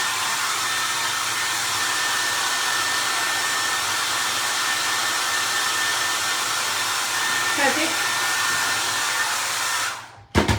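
A hair dryer blows in a continuous, loud, close whoosh while drying a homemade shoe stretcher before staining, running steadily for about ten seconds before cutting off with a brief click.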